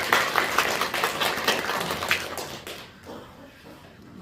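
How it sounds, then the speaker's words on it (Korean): Applause from the congregation at a church service, offered in thanks to the pastor: a dense, steady wash of clapping that fades out toward the end, leaving near silence. "감사의 박수 드리도록 하겠습니다"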